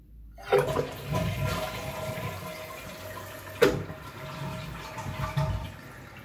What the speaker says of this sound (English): You see, that's a much better flush.